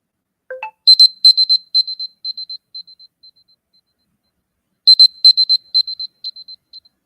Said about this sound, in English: we'll ring a buzzer